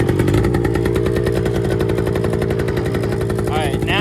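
A vintage 1974 Kawasaki MC1 motorcycle engine runs close and loud, a rapid, steady single-cylinder chatter that holds without a break, with a short squeal near the end.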